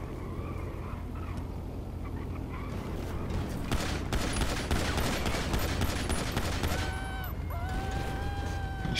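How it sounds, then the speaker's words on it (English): A police officer comes under fire in a law-enforcement role-play video game: dense rapid gunshots and bursts run for several seconds under muffled voices, with a wavering siren-like tone rising near the end. "Shots fired at officers."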